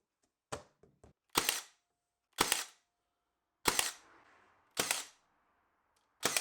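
Sharp pneumatic pin nailer shots fixing a glued back panel onto a wooden nightstand, a handful of loud, close snaps spaced about a second apart, with a faint hiss of air after some shots.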